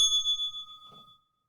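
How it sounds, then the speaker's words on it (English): A small bell is struck, giving a bright ringing tone that sustains and fades over about a second, with a soft clunk as it is set down, with no voices. "as I get the bell ready and drop it"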